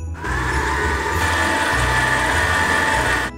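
An electric food mixer beating butter and brown sugar together for a cake batter, a steady, loud motor whir that runs continuously with a slight shift partway through, no voices.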